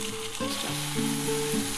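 Mustard paste fries in hot oil with a steady, close sizzle, a busy crackling hiss that runs unbroken for the whole moment with no voices.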